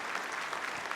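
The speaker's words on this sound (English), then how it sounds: "Let's give them a round of applause for making the effort to be here." A room of guests claps for visiting mayors at a breakfast event, a dense, steady burst of applause lasting about a second with no talk over it.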